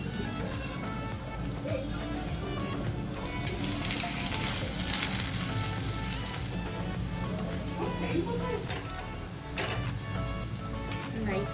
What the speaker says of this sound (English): We will shallow fry the patties for the burger.